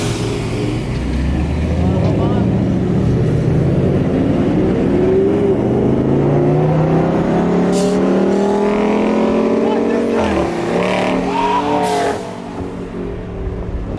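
A Dodge Charger Scat Pack and a Ford F150 5.0 V8 in a dig race, one loud engine roaring and revving steadily upward for about twelve seconds, with a gear change near the end, then easing off.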